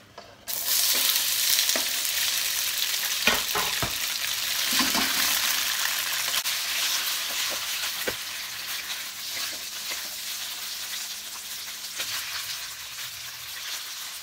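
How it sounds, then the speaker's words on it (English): Tofu dropped into smoking-hot oil sets off a loud, sudden frying sizzle that stays steady and bright for several seconds, broken by a few sharp pops and spatters. "that oil, as you can see, is smoking now, so I'm going to add my tofu and stand back."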